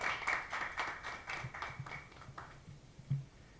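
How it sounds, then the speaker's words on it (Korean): A small forum audience at a Christian political discussion event claps to welcome a Labour Party policy speaker, a modest, sparse patter of individual claps that thins out toward the end, with a faint bump of noise. "박수로 맞아주시면 좋겠습니다"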